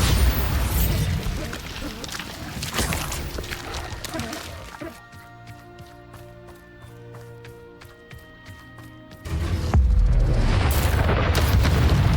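Bombarda spell blasts in Hogwarts Legacy land as loud booming explosions with rumbling debris, a quieter musical tone-filled stretch in the middle, then another heavy blast near the end, with a voice speaking over parts.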